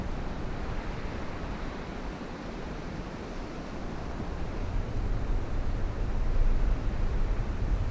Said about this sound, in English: I think you can hear the waves down there.